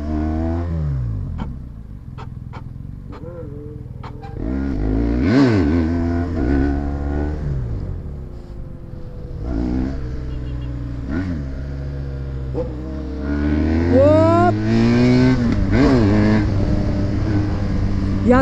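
A motorcycle revs repeatedly nearby, its engine pitch climbing and dropping in quick sweeps before a harder, louder acceleration pull near the end.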